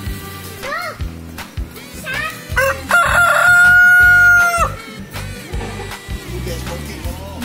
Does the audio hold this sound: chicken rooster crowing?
yes